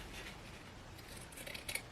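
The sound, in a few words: shears cutting around fabric mask pattern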